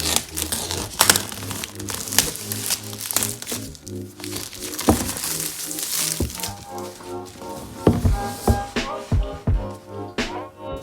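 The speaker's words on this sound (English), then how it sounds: "So now I have undone the plastic wrapping" Protective plastic wrap is pulled and crinkled off an iPad Air 4 box, giving continuous loud close crackling and rustling with sharp tearing snaps throughout.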